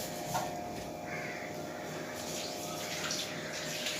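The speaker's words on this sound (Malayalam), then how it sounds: "അത് ഇതിലേക്കൊന്ന് ഒഴിച്ചു കൊടുക്കാം" A soft, continuous rush of water being poured into a pan, fairly faint and steady throughout.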